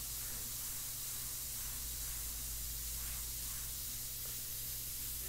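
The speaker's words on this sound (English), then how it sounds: "I just pull out further and I get that nice blend" An airbrush sprays India ink onto paper for a portrait, giving a steady, even hiss of air that runs unbroken from start to finish with no voices.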